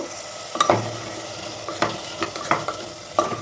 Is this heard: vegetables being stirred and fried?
yes